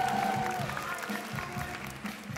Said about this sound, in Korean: 큰 박수 하나서